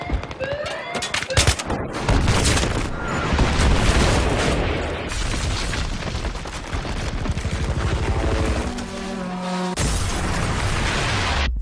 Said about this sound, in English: Gunfire sounds incredible, and the attention to detail is astonishing.